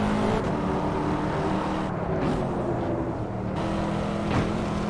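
A Corvette C7 in the Assetto Corsa racing game accelerates out of a corner, its engine droning loudly and steadily with brief dips at gear upshifts, heard alone without talk.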